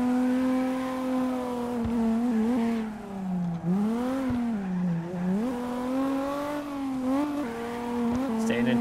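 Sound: car drifting in CarX Drift Racing video game

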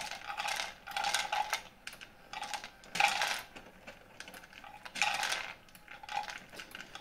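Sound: Pawaboo connected pet feeder dispensing dry kibble

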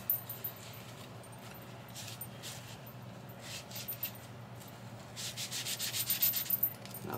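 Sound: rubbing Rub 'n Buff onto a wipes lid

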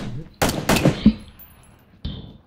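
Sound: gunshot in the video game PUBG

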